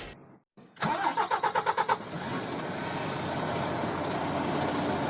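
A twelve-wheel truck's diesel engine is cranked: after a brief pause, a rapid series of about eight loud starter-driven chugs catches into a steady, close idle that runs on to the end.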